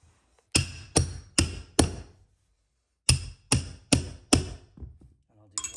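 A hammer pounds stair runner carpet down onto a smooth edge strip on a stair landing: a quick burst of four sharp knocks, a pause, then four more knocks and a softer trailing tap.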